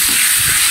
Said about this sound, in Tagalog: So, fry din natin yung dried chili hanggang sa maluto ng kaunti.